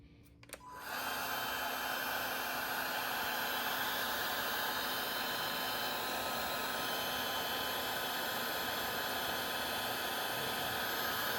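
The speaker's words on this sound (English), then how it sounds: "we are going to seal that right there with the heat gun" Milwaukee M18 compact heat gun switching on and blowing steadily as it shrinks solder seal tubing, a loud, even fan-and-air rush holding from start to finish with no talk.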